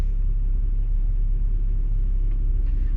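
Heavy lorries sitting in gridlocked traffic on Dover's one-way system, giving a steady low idling rumble that stays loud and even, with no voices.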